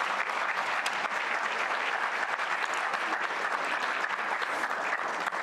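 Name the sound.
audience applause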